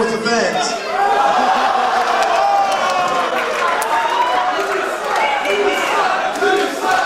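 A wrestling arena crowd jeers Johnny King in a loud, dense roar of booing and shouting that carries on without a break and fills the space. Individual yells break through the din, and no commentator can be heard over it.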